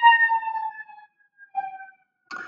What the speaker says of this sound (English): Sorry about this siren going on.